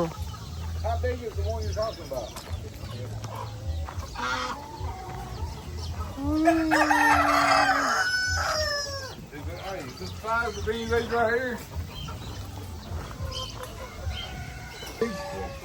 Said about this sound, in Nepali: कुखुरा